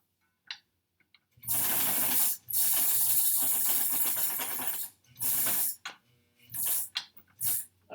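A sewing machine motor runs in bursts during foundation paper piecing for a quilt, with a mechanical whirring and clatter that starts and stops several times, moderately loud and close, with no talk.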